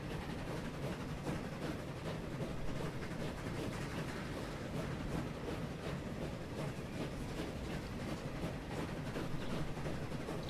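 A train in Transport Fever runs through a tunnel, giving a steady, muffled rumble with faint clattering that holds evenly throughout, moderately distant and unbroken.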